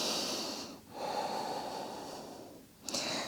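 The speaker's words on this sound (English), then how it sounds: "One more deep inhale and exhale." A slow, deep breath in and out during a post-run yoga cool-down, close and airy, with a brief pause between the inhale and the exhale and a sharper catch at the end.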